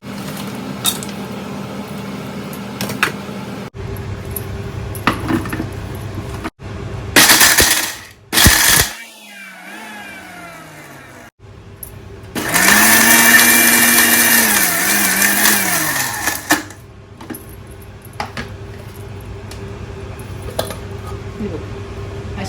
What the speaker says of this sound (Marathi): पहिले आपण खारीक थोडी थोडी करून ह्या मिक्सरमध्ये वाटून घेऊया